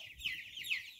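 Cornish cross chickens clucking in a brief burst of soft, close calls, two quick clucks over a quiet background.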